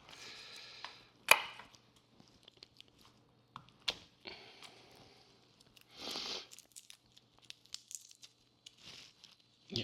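Peeled vegetables, skinned and topped, being minced with a knife during home cooking with local organic produce: sparse, irregular chopping and crunching strikes close by, with some crinkling in between and quiet gaps.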